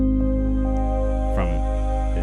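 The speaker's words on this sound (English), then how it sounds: "This is just a sine wave playing some low notes." Sub bass from an Ableton sine wave playing low root notes under a lofi track, a deep steady hum with a brief change in the chords partway through.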